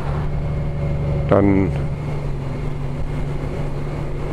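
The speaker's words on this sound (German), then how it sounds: "läuft der Motor vollkommen vibrationsfrei" A Honda Goldwing Tour DCT touring motorcycle with a seven-speed gearbox, cruising in fifth gear at a steady speed, gives an even, smooth low engine hum throughout, briefly overlaid by a short spoken word.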